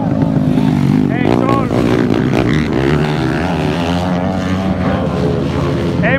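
A small racing engine screams at full speed, a loud, continuous high-revving drone with dense buzzing harmonics that holds steady throughout, while an excited voice talks over it.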